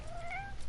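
A cat in the video game Fallout 76 gives a single short, clear meow, heard close over a low background hum.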